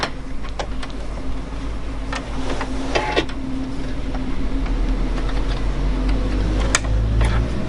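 Small plastic clicks and ticks as a clip-on presser foot snaps onto a Juki DX7 sewing machine, close and sharp over a steady low background hum.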